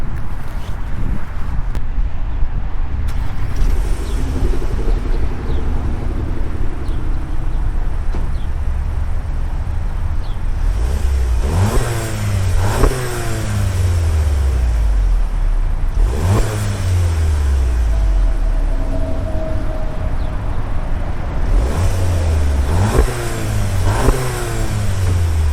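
A 2023 Volkswagen Jetta GLI Autobahn accelerates through several rising engine pulls, with revs climbing and dropping repeatedly over steady wind and road noise, loud and close with no talking.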